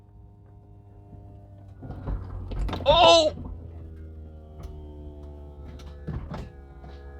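The Vario retractable hardtop of a 2004 Mercedes R230 SL500, just repaired after a failure, runs on a steady electric motor whine with mechanical clicks and shifts. A brief excited exclamation rises over the hum midway.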